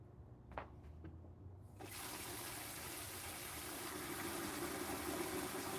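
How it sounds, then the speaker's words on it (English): Water running into a Soxhlet condenser, a quiet few clicks and taps first, then a steady gushing flow that stays constant to the end, faint and close. "I'm gonna add some more water to the condenser."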